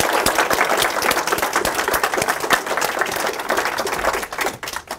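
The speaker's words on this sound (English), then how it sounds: "Round of applause." Dense audience applause fills a hall after a panel conversation on Northern Ireland politics, with many hands clapping steadily throughout before tapering near the end.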